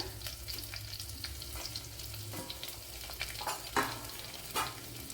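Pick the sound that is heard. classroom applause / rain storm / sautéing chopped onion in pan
sautéing chopped onion in pan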